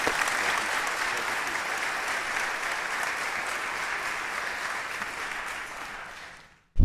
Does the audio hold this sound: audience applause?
yes